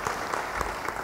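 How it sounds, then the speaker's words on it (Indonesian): A church congregation claps in praise to God during an online Bible study service, a brief burst of steady rhythmic applause from many hands close by. "Beri tepuk tangan yang baik bagi Tuhan."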